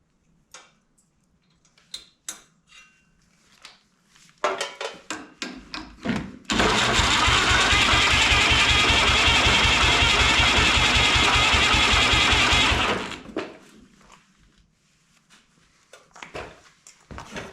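A turbocharged snowblower engine cranks over with ticking and clicking, then fires and runs loud and steady for about six seconds before shutting down, with scattered handling knocks before and after.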